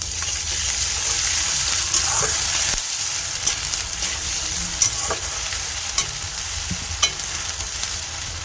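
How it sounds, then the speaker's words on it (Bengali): Onions frying in oil with garlic, ginger and cumin paste, a steady close sizzle broken by occasional spoon stirs and scrapes against the pan, with no talk over it. "পেঁয়াজটা অনেকটা ভাজা হয়ে গেছে, এর ভিতরে দিব আমি রসুন, আদা"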